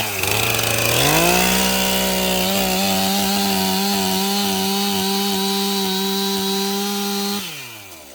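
Sawmill blade cutting through a rare yellow log, a loud engine-driven whine that ramps up in pitch, holds a steady sawing drone for several seconds, then winds down at the end, with no voices.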